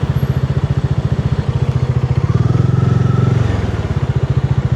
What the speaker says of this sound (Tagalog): Magaspang yung makina natin oh.